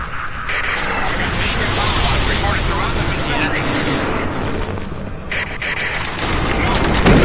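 Dense, continuous gunfire and explosions from the shooter game Doom 3: Resurrection of Evil, loud and sustained throughout, with a voice talking over the combat.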